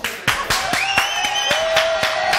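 A studio audience claps in a sharp, rhythmic beat, loud and close, with a sustained whistle-like tone gliding above the claps.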